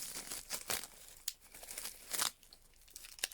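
Packaging around a block of Cernit polymer clay is unwrapped up close, with a quiet run of crinkling plastic and tearing rustles in irregular bursts and no talking.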